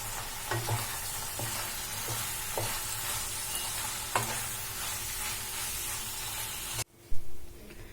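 Masala macaroni sizzles in a pan as a spoon stirs and scrapes through it, a steady close frying hiss punctuated by rhythmic utensil knocks, ending abruptly with a brief clatter and no talking.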